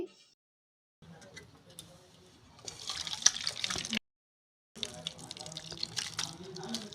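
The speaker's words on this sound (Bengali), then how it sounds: "ছানা কেটে গেছে তো এটিকে এবার আমরা নামিয়ে নেব জাল কাপড়ের সাহায্যে আমরা ছেঁকে নিচ্ছি" Whey from freshly curdled milk (chhana) streaming and dripping through a mesh cloth into a vessel, a close watery trickle and splash that cuts out briefly before resuming.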